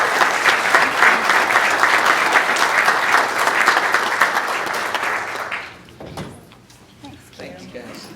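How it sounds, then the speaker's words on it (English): A high school athletics gathering gives sustained, loud applause from a large audience for five and a half seconds, then it drops off to scattered claps, a thump and quiet room noise. "Give them a round of applause."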